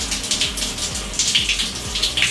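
A StoneStream shower head on its third spray setting sends water hissing down in a continuous close spray, with pulsing surges and low pump-like sweeps underneath.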